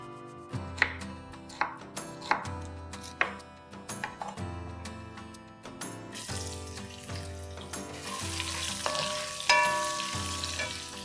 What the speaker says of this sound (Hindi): और साथ ही में हम डालेंगे लंबे कटे हुए प्याज